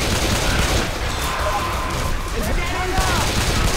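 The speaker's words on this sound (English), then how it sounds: "shoot everything!" Rapid, dense gunfire from several guns in the video game Left 4 Dead 2 crackles continuously and loudly throughout, with players shouting and talking over the shooting.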